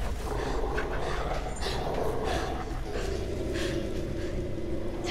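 A dog in the Beyond: Two Souls video game pants and whimpers close by in a steady, breathy rhythm under a constant background rumble.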